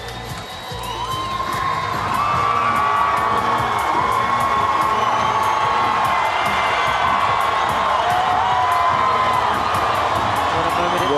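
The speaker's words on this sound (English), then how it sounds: "she's certainly getting a huge cheer" A huge stadium crowd cheers and roars steadily as a lone athlete from Tokelau enters during the Pacific Games opening ceremony in Port Moresby; loud, dense and sustained, with whoops and shouts rising over the din.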